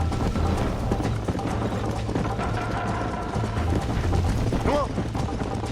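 A horse gallops in the Red Dead Redemption video game, rapid rhythmic hoofbeats thudding steadily through game ambience and mechanical noise.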